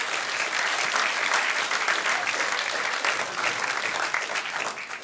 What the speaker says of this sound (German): Schön, dass ihr klatscht.